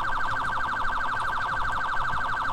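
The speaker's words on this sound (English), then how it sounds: "I'm just gonna stay on the priority siren." A California Highway Patrol motorcycle's priority siren blares close and loud, a rapid warbling tone that repeats evenly throughout without pause.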